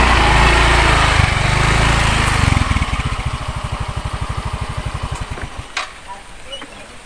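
Several motorbike engines run close by at a lakeside tourist spot, a loud steady drone that settles into a rapid pulsing idle putter, with a voice briefly under the noise.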